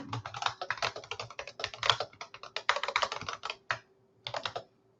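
Rapid, steady typing on a computer keyboard, close and clear, with dense clusters of key clicks running for several seconds, a brief pause, then a final short burst.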